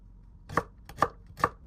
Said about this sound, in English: Dice the white part.